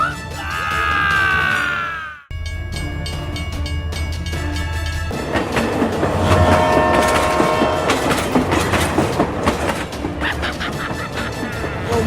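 A train rolls past on rails in a children's toy-vehicle cartoon, a steady loud rumble with rhythmic clatter and a brief whistle-like tone at the start, continuing without a break.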